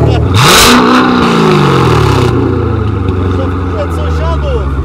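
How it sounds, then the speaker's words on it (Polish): A Corvette with a PP-Performance/Armytrix valved exhaust revs loudly up close, flaps open in racing mode, rising to a roaring peak then falling back to a deep rumbling idle. "gdy przełączymy na racing, słychać jak się klapy otwierają i w moją korwetę wstępuje prawdziwy potwór."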